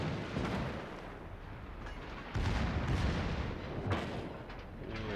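Heavy naval gunfire from a German battleship, the Gneisenau, in World of Warships, with booming artillery salvos rolling through a dense, continuous battle din and a louder blast near the middle.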